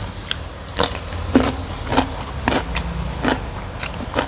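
Crisp bites and crunchy chewing of crispy pork belly served with rice and a fried egg, a series of sharp close crunches roughly every half second, no speech.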